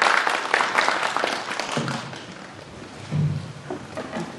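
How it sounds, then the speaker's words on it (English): An audience at an international conference applauds a professor being introduced for his opening address; a burst of clapping is strongest at the start, then thins out and fades. "Please give him a big applause"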